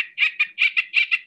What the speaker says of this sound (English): Here's that acorn woodpecker